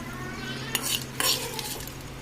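Masala for chicken dum biryani fries in a pan under steady stirring, with a couple of sharper scraping clinks of a spoon against the metal over a low background hum, close by and no talking.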